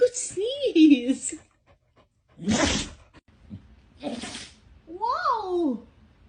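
A dog lets out a couple of short, abrupt sneezes amid brief pauses, with a nearby person speaking before and after in a cheerful tone.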